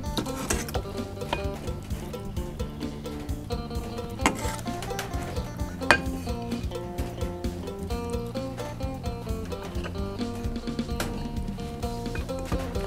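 Sliced beef going into a pot of soup broth while cooking Thai stewed beef, with steady clattering, stirring and sizzling kitchen noise under a loud rhythmic music bed.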